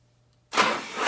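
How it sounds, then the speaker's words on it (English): A 1985 Harley-Davidson FXRS with an Evolution engine, spark plugs loosely fitted, cranks over sluggishly: silence, then a loud, steady broadband whirring churn starts about halfway through and holds to the end. "it cranks over too slow"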